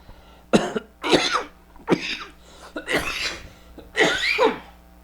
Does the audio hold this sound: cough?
yes